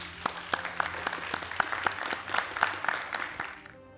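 A crowd at a secondary school debate competition applauds with a rhythmic, loud clapping beat over music, the clapping pulses regularly before fading out at the end.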